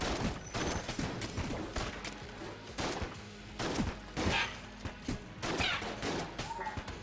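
Rapid gunfire bursts from a sniper in the video game Enter the Gungeon, sharp repeated cracks scattered irregularly through the scene over a busy game soundtrack, with no voices.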